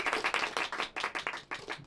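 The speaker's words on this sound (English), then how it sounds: "Your choice is served along with a round of applause." A small audience at a magic show claps in a brisk, uneven round of applause, close and moderately loud with distinct individual hand claps.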